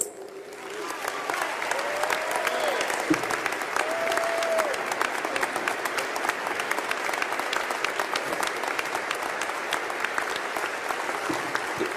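An audience at an MLK speech event welcomes the Reverend Dr. William Barber II with sustained applause, a dense, even clapping that holds steady for about twelve seconds.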